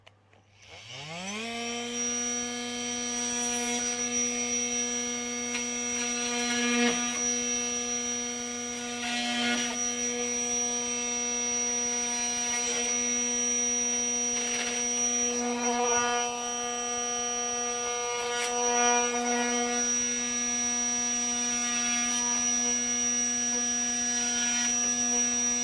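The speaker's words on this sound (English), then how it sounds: "So I'm going to get the multi-tool" An oscillating multi-tool spins up and runs steadily with a high buzzing whine, cutting continuously up close, loud and unbroken for the whole stretch.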